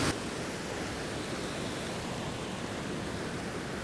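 A waterfall roars steadily nearby, a dense, unbroken rush of falling water that stays even and loud throughout with no voices over it.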